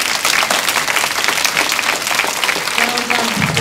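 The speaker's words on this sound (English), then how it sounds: "Deserve another round of applause." Loud, dense applause from an audience at a school assembly, sustained and close, with some voices rising briefly near the end.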